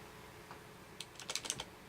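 Someone types a short burst of keystrokes on a computer keyboard, several quick close clicks clustered together after a brief quiet pause.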